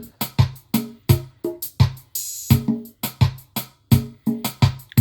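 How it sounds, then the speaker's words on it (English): Mellow Haitian kompa drum beat at about 85 BPM, a steady pattern of punchy kick and snare hits with a short crisp cymbal-like burst midway, clear and close, with no voices. "this is about 85 beats per minute, so it's a very mellow beat"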